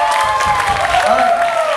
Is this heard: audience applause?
yes